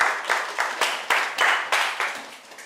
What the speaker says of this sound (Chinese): 那我们现在就用掌声谢谢